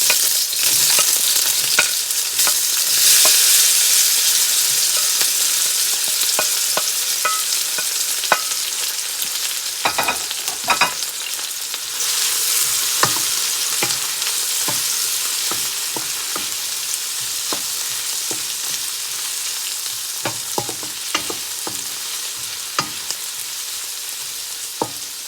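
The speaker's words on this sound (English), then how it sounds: "I'm gonna go ahead and add my onions, garlic, and then the tomatoes" Onions, garlic and tomatoes fry in hot oil for a beef linguine, giving a steady close sizzle that runs the whole time, broken by scattered clicks and scrapes of stirring, with no talking.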